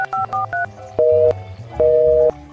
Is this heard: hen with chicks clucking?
no